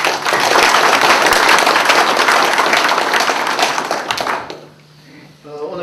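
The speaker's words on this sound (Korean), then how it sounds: "큰 격려의 박수 한번" A large crowd at an inauguration ceremony in Busan claps loudly and steadily for several seconds, then the applause fades out and only faint room noise remains.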